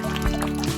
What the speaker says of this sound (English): And now we pour.